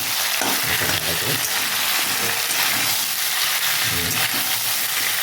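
Ginger paste sautéing in hot oil for Bengali shukto, a steady close sizzle and hiss with soft stirring scrapes and no pause.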